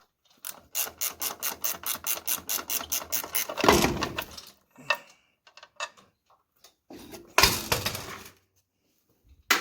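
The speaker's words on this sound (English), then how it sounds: "So we got all the nuts torqued down." Ratchet wrench torquing down suspension nuts on a rusty 1999 Toyota Tacoma during ball joint and Bilstein shock work: a rapid run of close, loud clicks, then a heavier clank, scattered faint ticks and a final burst of ratcheting.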